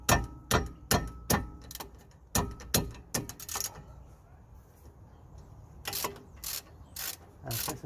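A ratchet wrench loosens a 15mm bolt on a Jaguar XF wheel hub, with sharp rapid clicking bursts, a quieter pause in the middle, then more clicking bursts, close up.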